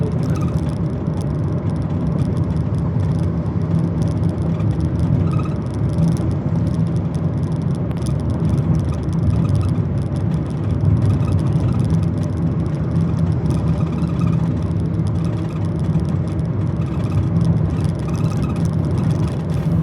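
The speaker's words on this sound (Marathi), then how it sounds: "मला गाडी घेऊन जायची लेफ्टच्या लेनमध्ये, तर मी एवढं सावकाश घेऊन जातो" A car cruising on a city road in Pune, steady engine hum and tyre roar heard from inside, continuous and fairly loud with no voices.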